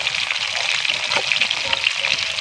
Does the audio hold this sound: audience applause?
no